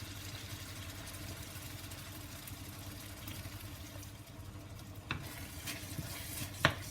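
Semi-thick cream being stirred in a pan for spicy shrimp fusilli, a steady soft scraping and faint bubbling at close range with a hum underneath, a couple of sharper clicks near the end.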